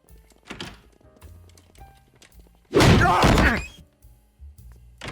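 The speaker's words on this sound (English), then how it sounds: "Poor Peter ends up getting hit by the door instead." In a Family Guy cartoon scene, a door slams into Peter with a loud thump and crash, set among quieter soft knocks and movements.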